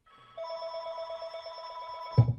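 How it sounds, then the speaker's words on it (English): A telephone rings steadily with a sustained electronic bell tone for about two seconds, ending in a louder low bump, with no talking during the ring. "the phone is ringing"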